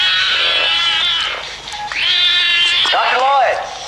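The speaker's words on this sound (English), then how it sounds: "all you hear is this cat meowing" A cat meows loudly and insistently several times in a row, long drawn-out cries close by, with no talking.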